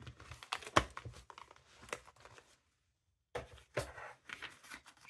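Double-sided tape being handled for a scrapbook pregnancy mini-album: close crinkling and tearing bursts in irregular clusters, with a short silent pause midway before more rustling resumes.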